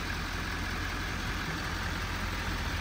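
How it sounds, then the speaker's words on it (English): A black GMC Sierra 2500HD Denali three-quarter-ton pickup with a Duramax diesel engine idles in a steady, continuous low rumble, heard close and alone. "Denali HD, Duramax engine. Listen to the purr."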